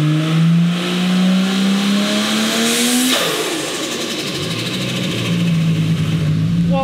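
A turbocharged VL engine revs hard and rises in pitch, then the throttle snaps shut and a fluttering chatter escapes through a 4-inch titanium dose pipe with a 9-degree bend, short edition, before the engine idles back up, loud and close.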